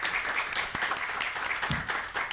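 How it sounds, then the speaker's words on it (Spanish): A live audience at a podcast recording applauds steadily, a dense continuous patter of many hands clapping that holds at an even level throughout with no voices on top. "Un aplauso"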